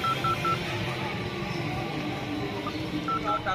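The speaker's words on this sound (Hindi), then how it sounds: "ये फोन निकाल और ठाकुर को फोन लगा व्हाट्सएप पे" Phone dialing tones from a call being placed over WhatsApp: a quick run of three beeps at the start, then another short burst of beeps near the end, set against steady background noise.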